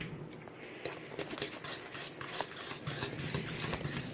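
Food being stirred by hand while cooking, a steady rubbing, scraping rasp of a utensil against a pot or bowl, close and continuous with irregular strokes.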